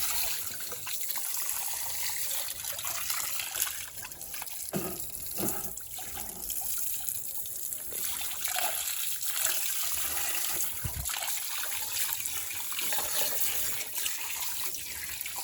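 Water runs out through an outlet pipe from a backyard fish pond in Sri Lanka, a steady broadband rush and trickle that holds close and even throughout without a break.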